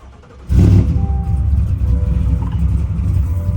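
A nearly new truck with 250 miles on it cranks and catches abruptly, settling into a loud, close, steady low engine rumble at idle.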